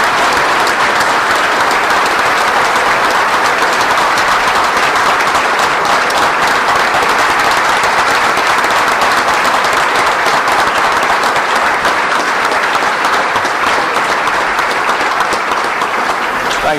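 Sustained applause from a large luncheon audience honoring the scholar athlete class of 2009 at the Allstate Sugar Bowl Scholar Athlete Luncheon, a dense, steady roar of many hands clapping continuously at full volume throughout.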